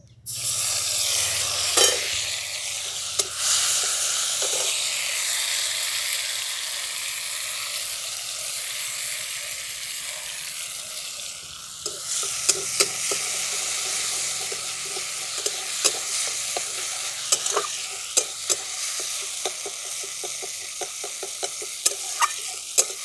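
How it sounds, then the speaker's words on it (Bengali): A ground paste of coriander, cumin and black pepper fries in a pan over tempered spices, giving a steady close sizzle with a brief dip partway through and scattered clicks of stirring. "দেখুন মশলাটা ভালো করে ভাজা ভাজা করা হয়ে গেছে"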